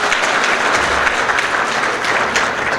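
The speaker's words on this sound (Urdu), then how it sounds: "میں آپ سب سے گزارش کرتا ہوں کہ بھرپور تالیوں میں معزز مہمانوں کا استقبال کیجیے" A crowd applauds to welcome honoured guests at an ATM opening ceremony, with loud, dense, continuous clapping that stays steady throughout and has no talking over it.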